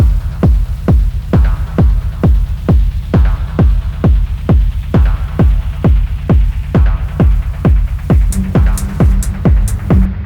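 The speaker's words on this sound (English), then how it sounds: "Now let's layer that just with kick, rumble, some percussions, and maybe the main lead sound." An electronic music production with a punchy layered kick drum thumping steadily about twice a second over a low rumble, light percussion and a lead synth, loud and continuous.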